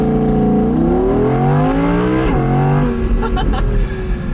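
Audi R8 V10 RWS, a rear-wheel-drive supercar, accelerating hard from a launch start with the V10 engine revving up steadily through the gears, loud and close from inside the car, with a brief shift dip midway.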